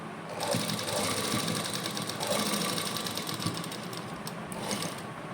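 A sewing machine runs steadily stitching lace onto a suit, a continuous close mechanical whir with fast rhythmic needle clatter and no pauses, heard alone.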